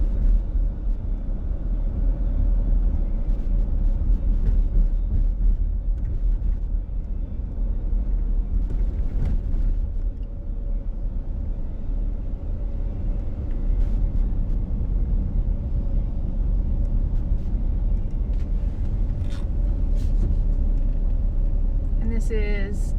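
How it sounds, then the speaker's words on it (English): A car drives through historic downtown Hardy, a shopping district with antique malls. Steady, low interior road and engine rumble runs throughout beneath continuous talking. "I am going to drive through downtown Hardy right now."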